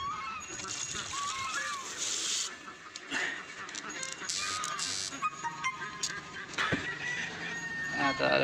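Ducks splash and quack in water close by, with honking calls and sloshing mixed with background talk.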